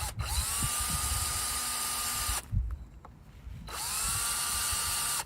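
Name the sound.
drilling into end of wood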